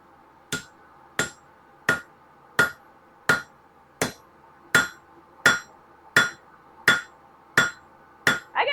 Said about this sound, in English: I said that I was gonna do some of this using the cross peen